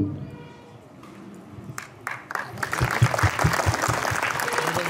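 An audience at a former teachers' and students' gathering at a Kimsar inter college claps for a teacher, the applause building from scattered claps into a full, rhythmic round.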